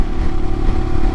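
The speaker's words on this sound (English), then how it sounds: "roll on the throttle, and instead of getting a big bogging noise, you know, it actually has engine sounds and you accelerate" A 2022 Royal Enfield Himalayan fitted with a Hitchcocks carburetor conversion pulls steadily in fifth gear at highway speed, a continuous engine drone with a steady tone mixed with wind rush, loud and close, no talk.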